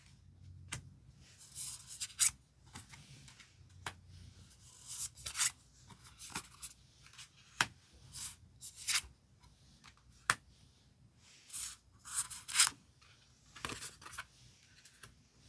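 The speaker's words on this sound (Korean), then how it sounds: "그 사람의 생각은 마음속은 어떤지 한번 카드 5장을 선택해 볼게요" Tarot cards are handled and five are picked from a spread, soft scattered rustles, slides and crisp flicks at close range, quiet between bursts, with no talk.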